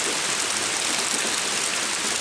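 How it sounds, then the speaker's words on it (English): Rain falling outside a sawmill, a steady dense hiss of drops on surfaces, loud and unbroken throughout. "I guess it's going to stay raining."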